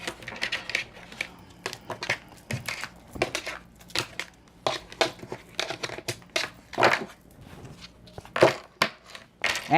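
Tarot cards being cut and handled up close, giving a series of crisp slaps, snaps and papery rustles in irregular bursts, with no voice.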